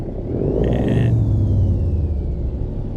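Game truck engine in American Truck Simulator as it reverses to couple a trailer: a steady loud low rumble and whir, with a brief higher tone in the middle and no talk.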